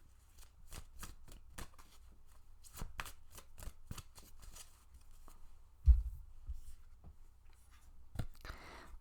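A deck of oracle cards is shuffled up close in quick, crisp bursts of riffling and tapping, with a short pause between runs.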